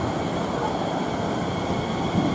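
Bombardier train passing on a London railway line, a continuous rumbling roar of wheels and carriages rolling by close at hand, steady and loud throughout the brief stretch.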